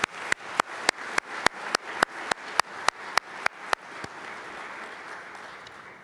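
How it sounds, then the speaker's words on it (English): Applause at a community policing awards ceremony, opening with loud, evenly spaced claps close by, then thinning into a softer, spread-out patter from the room. "Could we have another round of applause for the students from McKinley Technology High School"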